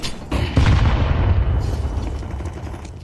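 A grenade explodes in Counter-Strike 2, a heavy low boom that swells and rumbles, then rolls out into a sustained roar that slowly fades over a few seconds.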